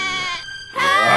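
Little goats in a children's bedtime story cry out in panic, two short overlapping bleats separated by a brief lull, close and fairly loud with no talking over them.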